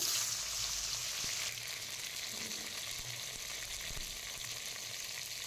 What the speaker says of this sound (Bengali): তেল ভালোভাবে হয়ে গেছে, মাছগুলো ছেড়ে দিলাম।